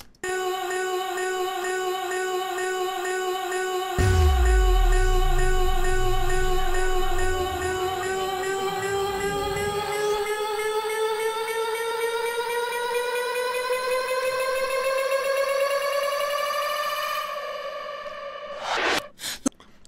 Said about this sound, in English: that's how you do a vocal riser